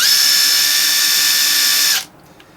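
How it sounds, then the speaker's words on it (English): An impact gun fitted with a Klein Tools deep-well 9/16 flip socket spins freely, giving a loud, steady high-pitched motor whine for about two seconds before it cuts off abruptly into near silence. "So you have your impact gun, and you put your tip on the impact gun like that, and you put your socket on there"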